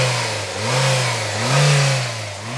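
A 2006 car's 1.8 litre twin-cam engine with variable valve timing revs up and eases back twice, a smooth mid-pitched rising and falling drone heard up close with no talking.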